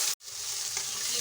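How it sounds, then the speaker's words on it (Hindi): Minced meat sizzles and crackles in hot oil after golden onions, stirred steadily in a pan; a brief silent gap near the start, then continuous close frying with no talk. "कीमा डाल के हम 2 मिनट चलाएंगे तेल के अंदर इसको अच्छे से।"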